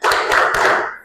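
A classroom group claps together in a tepuk semangat spirit clap, a loud, dense burst of many hands lasting about a second.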